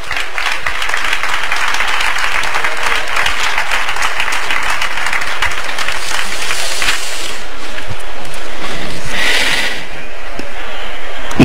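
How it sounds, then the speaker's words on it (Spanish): Loud, sustained applause from an audience at a flamenco singing contest (cante por serranas) in Prado del Rey, 2023, a dense steady roar of clapping that swells slightly toward the end. "Ahora sí, ese fortísimo, fortísimo aplauso."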